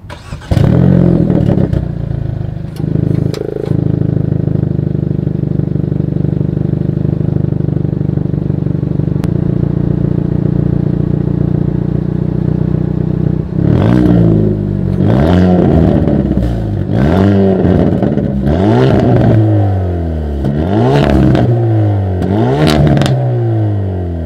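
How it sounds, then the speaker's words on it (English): A 2020 Hyundai Veloster N's exhaust drones at idle, then barks through a series of quick, loud revs that rise and fall sharply, close by. "here is that exhaust clip"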